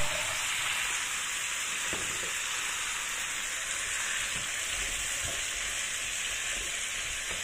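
Vegetables sizzle and fry steadily in a hot pan, a continuous close crackling hiss with occasional stirring clicks and taps, no talking.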